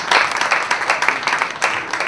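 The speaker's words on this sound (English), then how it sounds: "A round of applause for all the contributing authors to this book." Applause from the audience at a book launch for a short story collection, a dense burst of clapping with slight swells and dips, close and fairly loud.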